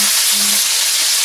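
Onions sizzle and fry in a hot pan for a braised lamb shank dish, a steady close broadband hiss with a faint low hum underneath.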